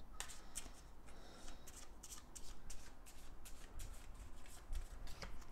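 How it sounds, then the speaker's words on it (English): Playing cards shuffled repeatedly, a run of quick crisp riffles and flicks recorded close up and fairly quiet, with no talking. "we're going to shuffle back in all of these tension cards"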